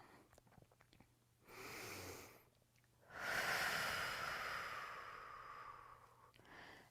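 Slow, deliberate breaths during a Pilates stretch: a breathy exhale followed after a pause by a longer, louder in-and-out breath that tapers off, with faint noises around them.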